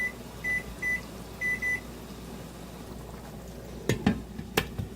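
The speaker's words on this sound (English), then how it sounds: "I'm going to set the timer for 25 minutes." A kitchen timer gives four short electronic beeps, two of them close together as a pair, heard alone in a quiet kitchen and followed by a few soft clicks and knocks.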